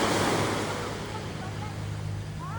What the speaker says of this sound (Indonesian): Ini lagi di Pantai Pasir Putih di Manokwari,